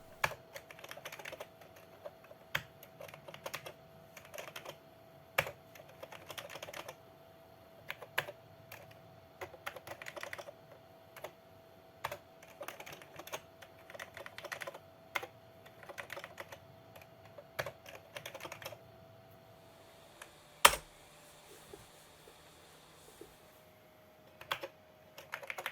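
Keys on a 486 PC keyboard clack in scattered bursts and single presses, fairly close and crisp over a faint steady hum, with a few pauses between runs of typing.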